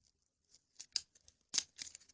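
Scissors cut through craft material in several short, crisp snips close by, with quiet pauses between each cut.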